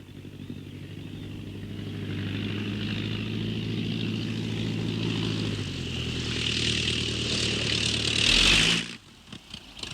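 Aircraft engine of the Thunderbird 6 plane from the 1968 film coming in to land, a steady droning hum that builds louder and then cuts off abruptly near the end.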